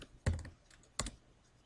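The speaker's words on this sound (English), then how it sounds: "Actually, I can just type it right in here." Two separated, sharp clicks from a computer keyboard while values are entered into a web-based video tool, close and fairly quiet with a pause between strikes.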